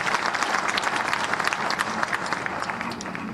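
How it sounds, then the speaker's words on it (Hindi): An audience at a Haryana civic ceremony honouring a newly elected mayor and councillors bursts into dense, steady clapping that holds at an even level for a few seconds. "तो जोरदार ताली इनके लिए भी"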